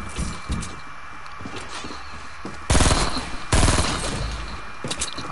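A heavy gun fires in a video game: two loud, dense bursts of rapid automatic fire close up, standing out above quieter background game sounds with scattered clicks.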